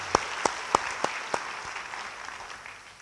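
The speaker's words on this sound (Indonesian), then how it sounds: "beri tepuk tangan bagi Tuhan" A church congregation applauds during a sermon. A few sharp, separate claps stand out at first, then softer collective clapping trails off.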